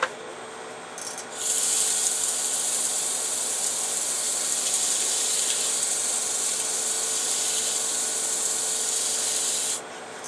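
Sandpaper is drawn across a surface in one long, steady pass, a loud, close, continuous scratchy rasp lasting about eight seconds, with a quieter moment before and after and no talk.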